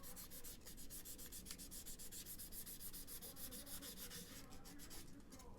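A softback sanding sponge scuffs down a model car body in quick, even back-and-forth strokes, a close, dry rhythmic rasping with no voices.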